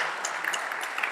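Light, thin applause from a small audience at a medical congress on advanced prostate cancer, steady clapping throughout the short moment.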